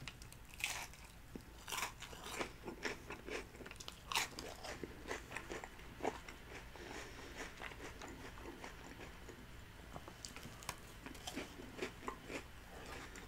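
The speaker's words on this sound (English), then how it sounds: "I'm going to try this crunch, this tostada that I'm so sad it broke." Biting and chewing a crunchy Taco Bell Big Cheez-It Tostada, close up: sharp crackling crunches and repeated chewing crackles in an uneven rhythm, quiet overall with no talking.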